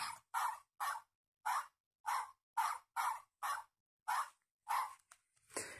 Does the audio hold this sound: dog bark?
yes